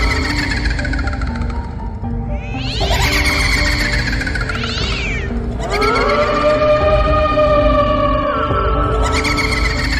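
Cartoon cat sound effect: a drawn-out, wavering meow rises and falls at close range, followed by longer, louder caterwauling yowls over a steady background of music or noise, with no talking.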